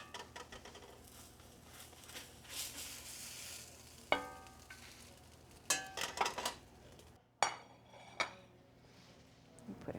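Fish frying in a pan, a soft crackling sizzle beneath sharp clinks and scrapes of a utensil against the pan, with several louder knocks spaced through the stretch, close and otherwise quiet.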